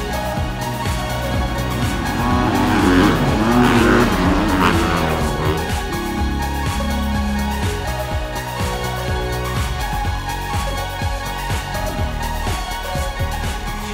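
2017 250F motocross bikes race around a dirt track, their engines revving and rasping loudly, swelling to a peak as riders pass close and then continuing as overlapping engine drones.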